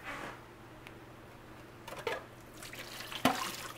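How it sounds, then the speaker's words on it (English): Water poured out of a pot after making lip balm, heard as faint, soft liquid splashing and trickling that builds into a brief sharper splash near the end. "And then immediately we're going to pour it right back out."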